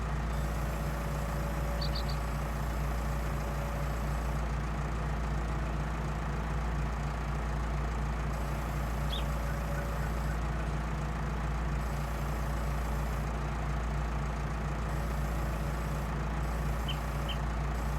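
A hydraulic unloading pipe swings outward on a farm machine in Farming Simulator 19, heard as a steady, droning mechanical hum with a low engine rumble, constant and unchanging throughout with no talk.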